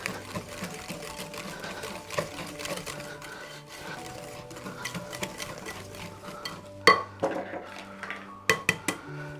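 Handheld electric mixer whirring steadily through cheesecake batter made with egg, with the beaters clattering against the bowl and a few sharp clinks near the end.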